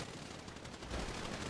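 Gunfire in a shooting video game, a quick rapid burst of automatic shots rattling for about a second and a half, fairly faint and without speech.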